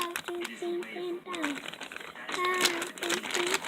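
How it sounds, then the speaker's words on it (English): Plastic bags holding homemade butter slime crinkle and rustle in close bursts, with a voice breaking in between the sounds. "sorry about all the crinkling because I don't have any containers, so I'm using like bags right now"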